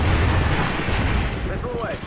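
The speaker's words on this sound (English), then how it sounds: "Missile away." In the video game Call of Duty: Ghosts, a missile launch and explosion make a loud, rumbling boom that fades into a sustained roar, with a faint rising whine near the end.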